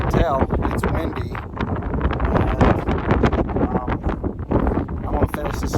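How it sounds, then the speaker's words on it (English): Strong gusting wind buffets the microphone outdoors on a trail in Theodore Roosevelt National Park, a loud continuous low rumble with surging peaks throughout and no spoken words. "as you can tell, it's windy"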